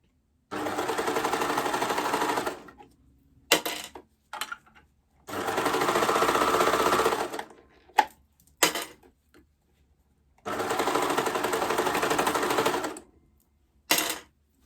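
A home sewing machine runs in three steady bursts of a few seconds each, with short clicks and handling knocks in the pauses between them.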